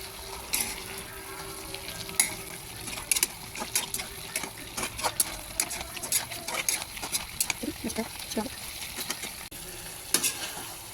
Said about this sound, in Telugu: ఒకసారి బాగా కలుపుకుందాం కలిసేలా.